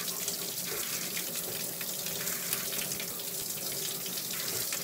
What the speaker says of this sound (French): Avant tout, chaque matin, depuis 13 avril, je prends une douche froide.